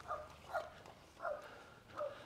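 A dog barks in a quiet suburban street lined with single and double storey homes and apartments, four short muffled barks spaced about half a second apart, faint and at some distance.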